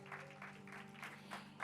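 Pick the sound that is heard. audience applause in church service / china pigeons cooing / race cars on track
audience applause in church service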